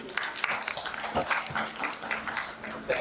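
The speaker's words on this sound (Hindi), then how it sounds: "एक जोरदार ताली।" An audience at an organisational workshop gives a loud, dense round of clapping, many hands slapping in rapid overlapping bursts that carry steadily from start to finish.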